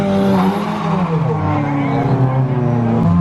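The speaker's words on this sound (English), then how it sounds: "Hendy Ford Sierra coming in for a start." A rare Ford Sierra rally car revving hard at the start line, its engine climbing through loud rising harmonics close by, with tire noise and a voice talking under the roar.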